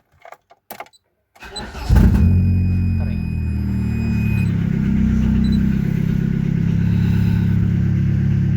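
An Opel car engine cranks briefly on the starter, catches and settles into a steady, loud idle as it warms up, with a faint high whine above the close rumble and a few clicks before the start.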